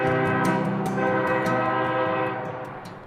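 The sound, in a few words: coal train locomotive in Utah coal country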